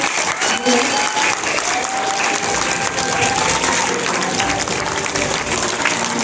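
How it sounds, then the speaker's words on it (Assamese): An audience at a stage program for a Vestige business event applauds loudly and continuously. Dense, even clapping fills the whole stretch, close and sustained. "দৌৰদাৰ তালিয়া"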